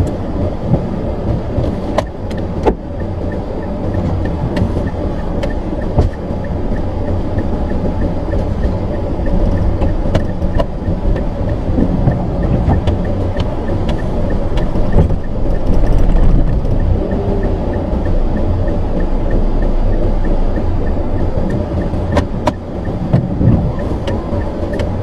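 A car performs a three-point turn on a road, heard as a steady low engine and road rumble from inside the vehicle that holds throughout with only small swells and no talk.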